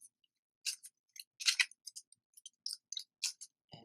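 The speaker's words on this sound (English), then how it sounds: "Shuffle the deck" Brisk crisp riffling of a card deck being shuffled for The Lord of the Rings card game, a quick series of dry flicks and snaps, close and quiet with no talk, ending on a soft thump.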